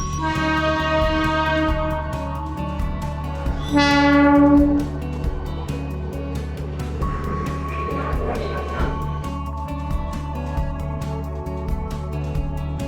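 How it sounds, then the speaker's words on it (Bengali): Steady rumble of a passenger train leaving Sheoraphuli station on a foggy morning, with drawn-out tonal horn blasts early on and rhythmic clacking throughout. "শেওড়াফুলি ছেড়ে ট্রেন এখন সামনের দিকে এগাচ্ছে"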